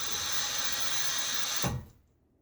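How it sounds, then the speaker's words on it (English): Water runs steadily from a tap into a shaving soap bowl with a bright, even hiss, then shuts off abruptly, leaving near silence. "you can take and start adding water"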